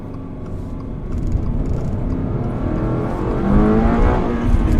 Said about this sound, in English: Oop, rev limiter.